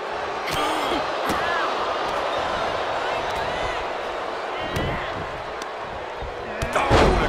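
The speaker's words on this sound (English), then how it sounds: "Oh, what a clothesline." A heavy body impact from a clothesline in WWE 2K24, a women's wrestling match, landing amid constant arena crowd roar, with sharp slams punctuating the noise and a louder burst near the end.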